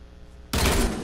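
Dual pistols fire in a video game playground mode, a dense burst of shots breaking in suddenly after a quiet lead-in, with one sharp crack near the end.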